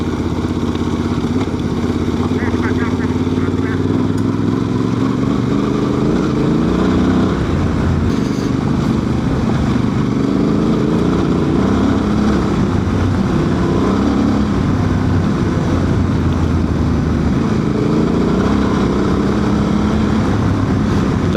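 A Honda Transalp 750 motorcycle rides a rally track, its engine droning steadily and close with shifting pitch as it speeds up and eases off, accompanied by rough wind and chassis clatter throughout.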